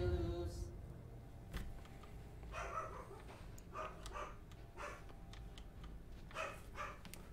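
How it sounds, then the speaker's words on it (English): Dogs bark in short, separated bursts at a distance in the Alice: Madness Returns game, faint yips and woofs repeating irregularly over a low background hum. "Well, my dogs are barking again."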